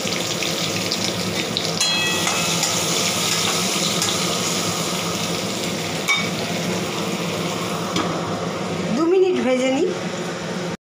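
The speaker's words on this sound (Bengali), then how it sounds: "প্রথমে আমি ক্যাপসিকামগুলি একটু ভেজে নিচ্ছি।" Capsicum frying in a pan, a continuous close sizzle and crackle running throughout, with light stirring scrapes and a brief clatter near the end.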